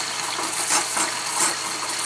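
Water from a camper shower line with low pressure sputters and hisses in a steady close rush, with faint surges as the flow spits unevenly.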